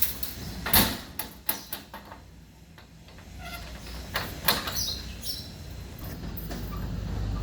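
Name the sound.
fire truck bonnet being popped open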